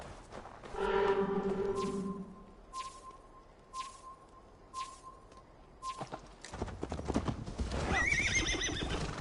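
A horse in a Viking-era action game gives a clear neigh, followed by a steady rhythmic clip-clop of hooves at a gallop, and a second whinny toward the end.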